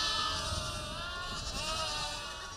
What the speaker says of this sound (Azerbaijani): Hal-hazırda qoyunlar indi buraxılıb balaları ilə bir yerdə